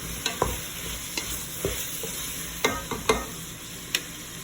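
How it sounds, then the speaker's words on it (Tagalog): Squash (kalabasa) and potato being stirred in a pan, soft background sizzle under a series of distinct scrapes and knocks of a spoon against the pan, spaced irregularly. "Then, syempre, halo-haloin lang natin."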